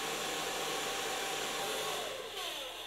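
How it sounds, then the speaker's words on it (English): A normal blow dryer drying hair at a salon during a perm and colour styling, a loud, steady, close airflow roar held throughout without talk. "So far blow drying, the underline I did with the normal blow dryer."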